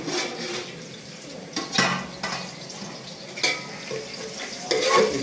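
Egg sizzles softly in a pan, with scattered scraping and clinking from a utensil stirring against the metal in short, uneven bursts, fairly close and moderately quiet.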